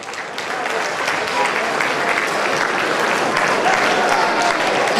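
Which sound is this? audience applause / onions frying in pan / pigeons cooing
audience applause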